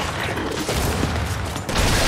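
Dense, continuous gunfire in a Gears 5 multiplayer match, loud and close, with overlapping shots and mechanical clatter blending into a constant wash of noise.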